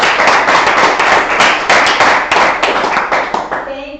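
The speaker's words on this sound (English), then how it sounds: "Claps again for everybody." A grade 10 class claps together after a debate on global warming, a loud, dense burst of many hands that rolls on for about four seconds before fading out.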